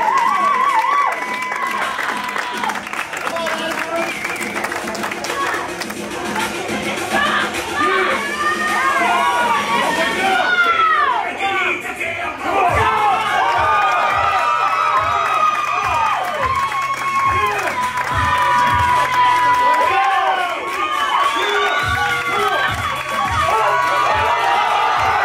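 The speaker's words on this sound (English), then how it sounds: "Let's give Adam a great big round of applause." A crowd at a powerlifting meet cheers, whoops and applauds a heavy deadlift record attempt in Utah, a long loud roar of shouting and clapping with voices calling out and thumping beneath.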